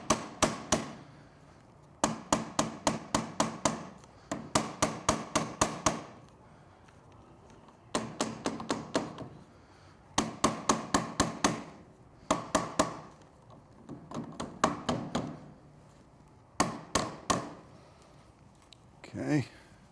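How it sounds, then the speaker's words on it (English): Steady rubber mallet taps on metal while fitting headlight ears on a Triumph Street Twin motorcycle, struck in quick bursts of several blows separated by short pauses, close and fairly loud. "make sure you're using a rubber mallet"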